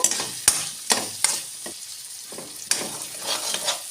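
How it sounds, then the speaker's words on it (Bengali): Carrots, beans and peas stir-fried in a pan for veg pulao, with a steady sizzle under sharp spatula scrapes and clanks that come every half second or so, close by. "গাজরটা কষে নিয়ে দিয়ে দেবো বিনস মটরশুঁটি বিনস মটরশুঁটি একটুখানি নেড়ে নেব"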